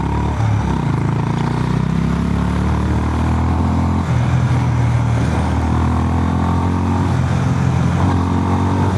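A 2025 Honda GB 350S single-cylinder motorcycle engine revs up while riding off-road, a steady, loud rumbling drone whose pitch climbs and eases in waves throughout.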